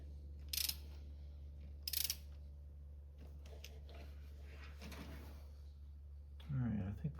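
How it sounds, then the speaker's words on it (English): Hot exhaust manifold bolts being worked loose on a Dodge 5.2 Magnum V8 in a Dakota truck, with faint mechanical ratcheting and metal clicks, a couple of short sharp bursts and a low steady hum in a quiet garage. "First step is to try to get these exhaust manifold bolts loose."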